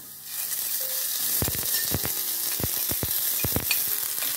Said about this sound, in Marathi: त्याच्यामध्ये एक कांदा घेतलेला आहे, तो भाजून घेऊया।